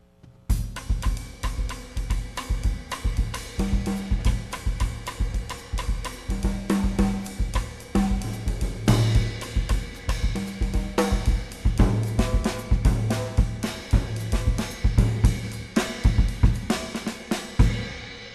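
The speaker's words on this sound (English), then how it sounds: "the kind of Brazilian rhythm that we know as conga, actually evolved into something that we now know as the bossa nova" A bossa nova groove played on a drum kit as used in jazz, with soft steady kick pulses, ticking cymbal and rim strokes in a continuous, moderately loud pattern, and no voices.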